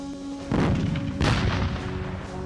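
Hand grenades go off during a military patrol firefight, two heavy explosive blasts about a second apart, loud and booming, with rumbling decay between them.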